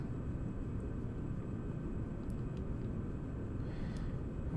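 Heavy bomber plane taking off on a runway in Kerbal Space Program, a steady broad engine roar and rumble holding at an even level throughout, with faint occasional clicks above it.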